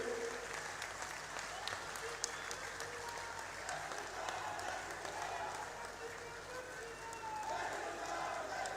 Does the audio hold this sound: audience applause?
yes